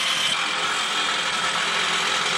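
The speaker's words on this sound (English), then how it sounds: "As you hear the electric jackhammer" An electric jackhammer at an excavation site rattles loudly and steadily for the whole stretch, a dense, harsh mechanical clatter with no pauses and no voices.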